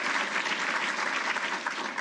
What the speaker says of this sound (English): We just want to give him a round of applause.